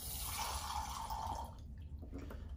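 Water running and rinsing in a lab sink after a reaction's contents are poured away, a soft steady faucet splash fading toward the end, faint and without talk.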